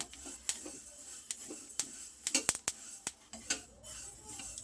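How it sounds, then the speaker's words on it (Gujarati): A spoon stirs sesame seeds dry-roasting in a pan, giving quiet, irregular clicks and scrapes of metal against metal with soft rustling between them. "હલાવતા જવાનું છે સરસ રીતે મિક્સ કરતા જઈશું એટલે બધા તલ સરસ રીતે એકદમ સરસ શેકાઈ જાય"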